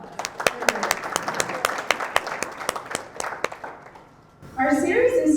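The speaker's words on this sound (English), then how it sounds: "let's give them a round of applause." An audience claps for program staff at an academic event, scattered but steady applause that tapers off before a voice begins speaking at the end.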